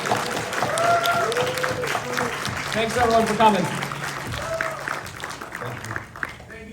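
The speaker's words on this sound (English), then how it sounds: "give a round of applause for Bobby and Mike right here" Applause from a convention audience at a horror fan festival panel, broad clapping that runs under a voice, which speaks through most of the stretch before the clapping tails off near the end.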